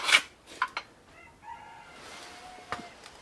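A rooster crows at a distance, its call drawn out over a couple of seconds, with a few sharp clucks and knocks around it in a quiet outdoor setting.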